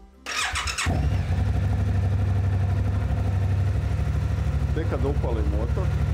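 A motorcycle engine starts with a brief cranking whir, catches, and settles into a steady close idle; someone talks briefly over the running engine near the end.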